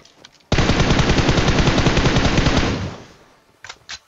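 Automatic gunfire in the mobile shooter PUBG Mobile, played on an iPad Pro: a loud, dense burst of rapid shots lasting about two seconds, fading into a tail, followed by a couple of shorter pops.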